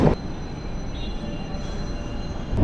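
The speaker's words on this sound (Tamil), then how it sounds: "திருவான்மியூர்லேருந்தும் இப்போது ட்ரெயின் ஸ்டார்ட் ஆகிடுச்சிங்க" A suburban train pulls away from Thiruvanmiyur railway station in Chennai, giving a loud, steady rumble of rolling carriages from nearby, with a sharp knock at the start and end.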